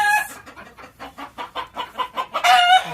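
Roosters and hens cluck in a quick, rhythmic series of short calls, close by, ending with a louder squawk; no one speaks.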